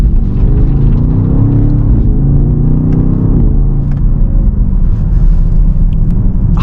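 A BMW XM's V8 engine rumbles loud and close, a deep, continuous low-end drone with some rising revs, heard alone without any voices.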